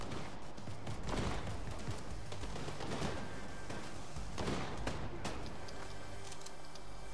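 Gunfire in a Fortnite match, with dense, continuous volleys of shots and rapid bursts that carry through the whole stretch at a steady, moderately loud level.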